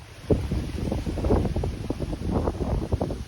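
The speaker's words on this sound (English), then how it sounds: "it's a very windy day" Strong wind on the Appalachian Trail in Shenandoah National Park buffets the microphone in rough, gusting rumbles that rise and fall throughout, loud and close.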